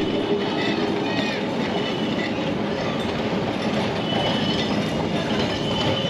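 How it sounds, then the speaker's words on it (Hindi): An old Kolkata tram pulling away, a continuous loud rolling rumble with clickety-clack and squealing wheels on rails amid street noise. "तो यह ट्राम भी मुझे लिए बिना ही भाग रही थी।"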